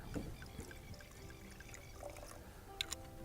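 Sauvignon Blanc from Marlborough, New Zealand, poured into a wine glass, a faint soft trickle and glug with a couple of light glassy clinks near the end, quiet and close.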